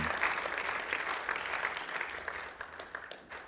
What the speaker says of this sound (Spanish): Démosle un aplauso al joven que le entregó su vida al Mesías el día de hoy